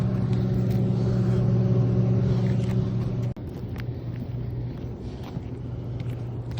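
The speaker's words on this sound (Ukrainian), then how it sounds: "тут багато дуже машин є зараз" Steady low traffic rumble from many cars driving near a US school, with construction work nearby; a continuous loud drone with a brief dip partway through, no talk.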